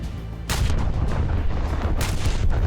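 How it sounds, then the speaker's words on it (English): Armor-piercing main-gun salvo from the dreadnought SMS Nassau in War Thunder naval combat, two heavy booming reports about a second and a half apart over a constant dense rumble of battle noise, no voices. "we're going to go with the armor piercing for this salvo"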